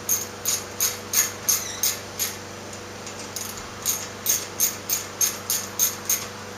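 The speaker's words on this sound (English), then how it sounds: "Had to use a ratchet." A ratchet clicks in steady, even strokes while tightening long bolts on a Kawasaki 454LTD motorcycle, two runs of rhythmic ratcheting separated by a short pause, close and clear with no talk.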